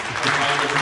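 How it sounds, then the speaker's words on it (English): Brief burst of audience applause at a big band jazz concert, steady dense clapping from a crowd. "Another round of applause for Dr. Johnny Benson."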